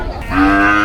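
An Indian bullock at a busy cattle market gives one loud, close, drawn-out moo that swells and holds steady, with faint crowd noise underneath.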